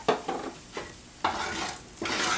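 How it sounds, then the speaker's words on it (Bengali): Potatoes frying in turmeric-tinted oil for an egg curry, giving a steady sizzle broken by several bursts of louder stirring and scraping in the pan, all close up with no voices. "নিয়ে আলুটা ভেজে নেব।"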